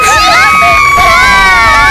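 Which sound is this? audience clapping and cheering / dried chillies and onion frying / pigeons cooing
audience clapping and cheering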